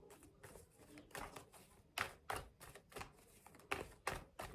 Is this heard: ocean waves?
no